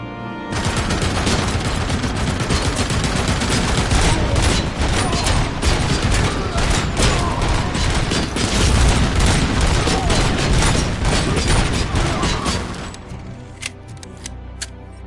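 Heavy machine gun fire in the RoboCop: Rogue City video game rattles on without pause at high volume for over ten seconds, mixed with impacts and booms, then fades at the end.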